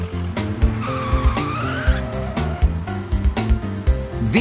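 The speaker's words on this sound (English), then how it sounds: "Vroom is the sound the trucks make when they drive very fast." Cartoon monster trucks drive fast, engines whining and tires squealing in sweeping pitch glides, with punchy thumps recurring through a loud, busy soundtrack.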